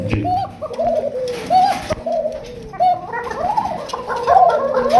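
Arabian pigeons at a busy bird market, a chorus of repeated rolling coos from several birds close by, overlapping almost continuously with occasional wing flutters.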